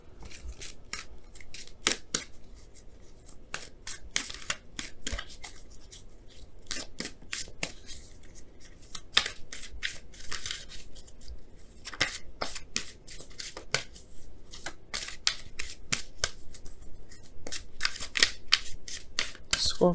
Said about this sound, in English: we're gonna pull some Romance Angels cards to kind of get a better idea of what this, what's going on